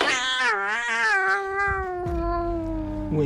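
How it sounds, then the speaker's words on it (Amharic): A distressed cat yowls indoors in one long, loud, wavering cry that rises and falls, then settles into a drawn-out steady moan, close to the microphone with no talking. "ድመት የሆነ እየተጨነቀ ያለ ድመት ድምፅ ነው የሚሰማኝ።"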